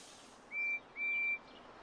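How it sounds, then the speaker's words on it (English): Two short, high, thin whistle toots from Percy the tank engine, quiet and distant, separated by a brief pause over faint background hiss. "Thomas listens to Percy's whistle."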